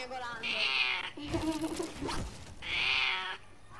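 A cat meows twice, drawn-out and whiny, with a brief burst of other noise between the two calls.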